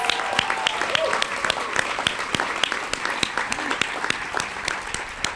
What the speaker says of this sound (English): Let's give another applause for our wonderful arts-based school students.